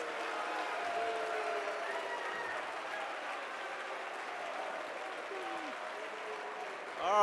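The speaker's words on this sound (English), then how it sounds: "let's have a round of applause for both competitors." Audience applause at a school assembly for two math competition competitors, a steady sustained clapping crowd lasting several seconds with faint voices mixed in before a voice cuts in at the end.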